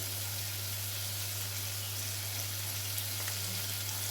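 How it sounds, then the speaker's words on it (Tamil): Onions frying in a pan for mint rice give a soft, steady sizzle over a constant low hum, even and unbroken, with no speech. "இப்போ வெங்காயம் நல்லா வதங்கிடுச்சு"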